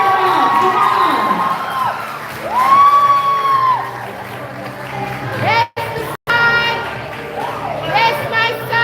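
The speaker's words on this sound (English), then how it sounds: "keep that applause, keep that applause" A crowd at a primary and infant school graduation cheers, whoops and shouts with children's voices rising over scattered clapping, while a voice talks over the noise and the sound briefly cuts out twice.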